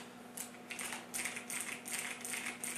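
Clicky keystrokes on a Razer BlackWidow Tournament Edition mechanical keyboard with Cherry MX Blue–style switches, a steady run of quick close taps in bursts, each with a crisp high click, over a faint constant hum.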